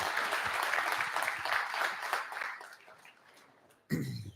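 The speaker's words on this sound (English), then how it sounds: "Can we get a big round of applause for Fernando" Audience applause for a guest speaker at a live real estate investors meeting, a dense sustained clapping that gradually thins and fades out before a brief loud noise at the end.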